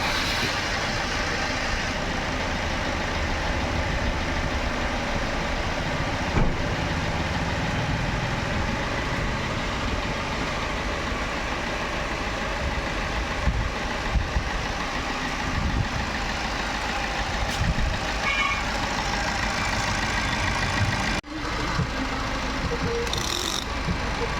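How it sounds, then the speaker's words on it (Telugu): Steady, moderately loud idle of a car engine running during an engine carbon-cleaning service in a workshop, a constant low drone lasting throughout with occasional clicks and knocks from nearby work. "ఈ సిస్టమ్స్ వచ్చేసి మనకి వెహికల్ అయితే స్టార్ట్ చేస్తున్నారండి"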